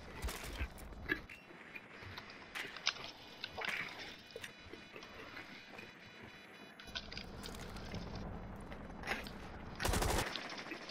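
Gunfire in Rainbow Six Siege: sharp, separate shots crack out at irregular intervals over about eleven seconds, a few close and loud, ending in a dense, loud burst of rapid fire near the end.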